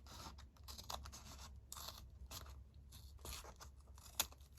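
Scissors cutting a paper envelope down to size, giving soft, quiet crisp snips and rustles in uneven bursts, with one sharper snip near the end.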